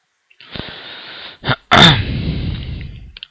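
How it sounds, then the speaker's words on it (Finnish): A person clears their throat and coughs a few times, harsh raspy bursts close to the microphone, with no speech. "Pahoittelen vähän yskä."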